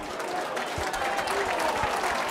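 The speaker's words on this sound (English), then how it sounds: "drawing a huge round of applause on debut" Sustained crowd applause at a Hunslet RLFC versus Bradford Bulls rugby league match, steady and broad for the whole stretch, with a few louder bursts of clapping and a commentator's voice faintly mixed in.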